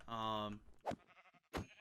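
A Minecraft sheep gives a single clear wavering bleat, close and moderately loud, followed by short bursts of other game sounds.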